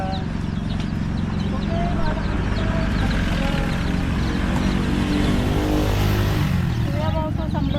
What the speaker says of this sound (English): We have also some birds here.